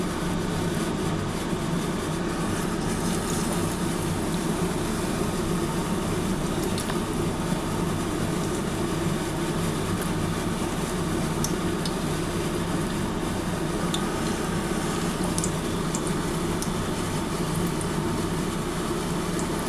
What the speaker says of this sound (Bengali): আরও 2 পিস ভেজে নিচ্ছি। এরমভাবে আমি কিন্তু বেগুনিগুলো ভাজছি